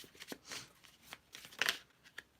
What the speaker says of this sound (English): I'm just going to shuffle till I feel it's at the right place.